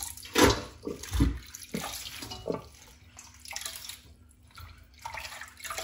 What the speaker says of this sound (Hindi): तो आप अब पानी डाला हाथों से, एक दफा इसको ऐसे कर लेंगे कि पत्तों के साथ जो मिट्टी है वो सारी निकल जाए।